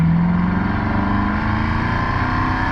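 A Mercedes, likely a C63, pulls hard under acceleration on a test drive, its engine note loud and close, droning steadily with a rising pitch and no pauses throughout.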